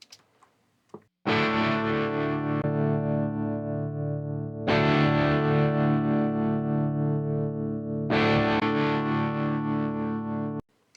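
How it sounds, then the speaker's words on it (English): Electric guitar recorded through a St. Rock loadbox with a G12H30 speaker impulse response, three long sustained distorted chords, each ringing out loudly for several seconds before the next strum, with a brief quiet lead-in. "Let's listen to that in comparison with the G12H30 impulse response from the Saint Rock."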